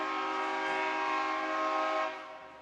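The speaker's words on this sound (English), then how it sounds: "Our first train of the morning." A passing train sounds its horn near Corbett Field during a morning baseball game: one long, loud, steady multi-tone blast that eases off slightly toward the end.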